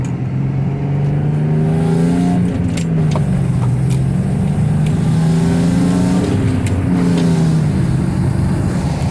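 Audi S5 engine on a test drive, revving up and dropping as gears shift, with a steady close-up drone, two rising sweeps and a dip between them, no talk.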